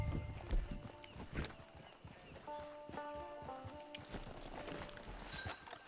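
Faint horse hoofbeats from the video game Red Dead clip-clop in an uneven walking rhythm over a quiet background, with a few brief tonal sounds mixed in.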